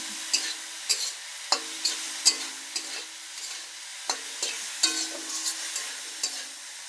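A spoon stirring turmeric and spices in a cooking pan, a faint sizzle with about a dozen sharp scraping strokes at an uneven rhythm, close and clear.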